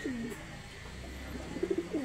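Racing pigeon cooing at close range: a soft low coo at the start, then a short burst of rolling coos near the end, over a faint background hum with no speech.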